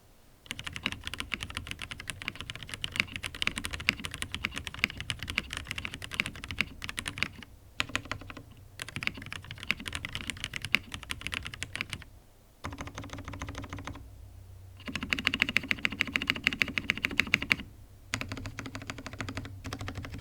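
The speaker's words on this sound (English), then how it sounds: "Generally, MX blacks on aluminum will sound very high-pitched and clacky" Someone types steadily on a Zoom TKL aluminum mechanical keyboard with lubed MX Black switches and lubed stabilizers, producing dense, close clacking keystrokes with a few brief pauses, and no voice.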